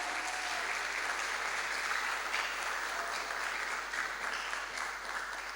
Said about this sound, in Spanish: Un aplauso para Pablo